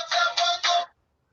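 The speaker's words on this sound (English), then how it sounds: "And that's my phone, and I apologize to you for it." A mobile phone rings with three short electronic tone bursts in quick succession, clear and close, then silence.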